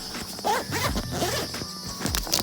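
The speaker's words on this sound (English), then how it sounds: "just up the steps, unzip this. I won't let flies in." A tent zipper is drawn open at a wet-season camp on the Mary River in the Kimberley, several close, rasping pulls in quick succession.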